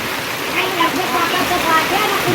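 Heavy monsoon rain pours steadily over farm fields at paddy-planting time, a dense, continuous hiss with no breaks, loud and close throughout.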